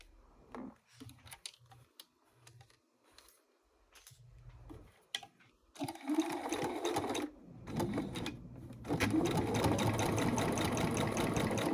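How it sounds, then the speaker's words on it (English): Sewing machine stitching a curved seam in backpack fabric, starting with short separated bursts of stitching and building into longer, louder continuous runs near the end, with no talking. "now we're going to sew the curve"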